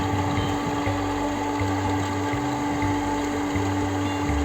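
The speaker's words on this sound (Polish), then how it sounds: "Cały czas pompuje wodę i cały czas jest." A pump draws water up from a freshly dug well on a garden plot, its steady mechanical hum running continuously and fairly loud, with a low pulsing drone underneath.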